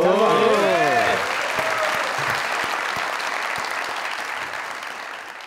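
Studio audience on a Pakistani comedy talk show bursts into loud applause, mixed with voices and a brief sung or vocal phrase at the start, then settles into steady clapping that slowly fades across the whole stretch.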